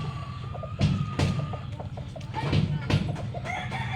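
Several chickens clucking close by, with short repeated calls overlapping against a busy outdoor background.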